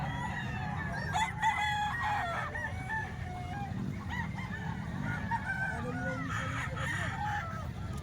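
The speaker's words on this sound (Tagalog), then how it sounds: "Ito yung mga manok dito mga bossing sa Kalumpit." Roosters crow repeatedly and hens cluck all around at a Tuesday poultry market in Calumpit, several overlapping cock-a-doodle-doos rising over a busy, crowded murmur.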